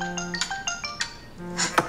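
A phone ringtone plays a short, bright electronic tune of repeating tones, then gives a few clinks and a final upward chirp.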